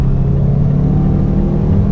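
Steady, loud engine drone from a 2019 Mazda CX-5 with its 2.5-liter turbo, 250-horsepower engine under acceleration in sport mode, with low rumble and turbo whir holding evenly throughout, no talk.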